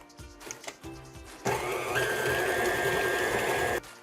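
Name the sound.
electric mixer combining cookie dough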